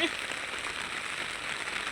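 Steady rain in Sajek hisses continuously and evenly, a close, dense wash with no breaks and no voices.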